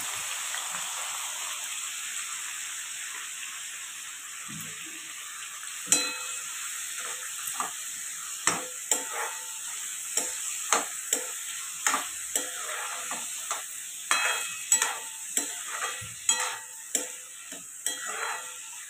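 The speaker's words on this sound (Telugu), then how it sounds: "బాండీ వేడెక్కిన తర్వాత మనం అందులో నూనె వేసుకొని మనం ముందుగా తరిగి పెట్టుకున్న టమాటాలు, పచ్చిమిరపకాయలు, ఉల్లిపాయలు వేసి మగ్గించుకోవాలి." Tomatoes, green chillies and onions fry in oil in a hot pan with a continuous bright sizzle, then a stirring spoon taps and scrapes in quick irregular clicks that grow more frequent over the steady hiss.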